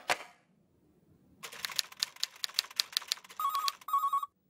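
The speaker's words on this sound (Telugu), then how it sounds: "మన్మథరావు గారు ఎన్నిసార్లు ఫోన్ చేసినా లేడని చెప్పిస్తున్నారు?" An office telephone rings in a Telugu comedy scene: a soft knock, a pause, then a rapid run of bright mechanical bell strikes followed by two sustained electronic trills, loud and close with no talk.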